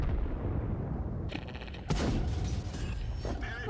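Tank cannon fire in World of Tanks: a sharp, loud blast near the middle, preceded by mechanical clatter and followed by rattling debris and creaking tracks.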